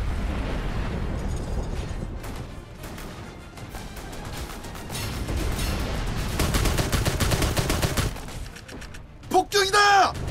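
Catapult bombardment in the siege video game Warlander, with rumbling impacts and bursts of explosions, loud and continuous, ending with excited shouting.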